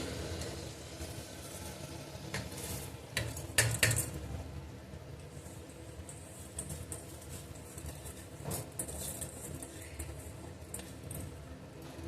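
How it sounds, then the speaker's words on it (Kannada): Rice poured into a cooking pot in a home kitchen, with clinking pot and utensil clatter, a louder burst of rattling and scraping in the middle, and quieter handling noises through the rest. "ಈಗ ಅಕ್ಕಿ ಹಾಕ್ತಾ ಇದ್ದೀನಿ"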